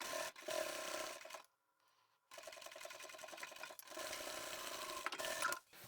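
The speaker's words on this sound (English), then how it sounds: "I'll sew that in place" A sewing machine stitches swatch fabric pieces together for a bag, giving quiet, rapid mechanical runs that stop briefly, then resume for a longer continuous stretch before pausing again.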